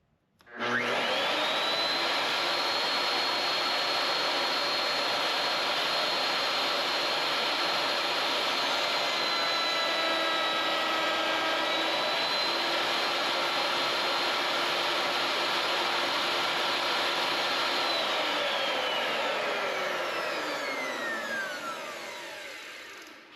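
A router cuts a profile along wooden trim molding for a tiny house header cap, a loud, steady high-pitched whine that spins up quickly, holds under load for about twenty seconds, then winds down in a falling tone.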